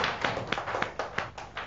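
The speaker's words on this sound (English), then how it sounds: "Let's give your friends a clap." Several sharp claps ring out in a quick, slightly uneven rhythm, a short burst of young schoolchildren clapping close by in a classroom.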